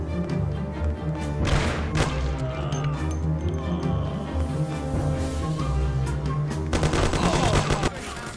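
Gunfire in the video game Mafia Definitive Edition, with repeated loud shots and bursts firing over a low music bed, clustered in heavy volleys near the start and again toward the end.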